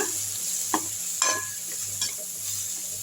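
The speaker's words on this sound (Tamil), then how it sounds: "இதையும் சேர்த்து நல்லா வதக்கிடுங்க" Chilli powder and spices sizzle steadily in a hot frying pan with drumstick flowers, drumsticks and brinjal, with a few brief scraping clicks of a utensil stirring.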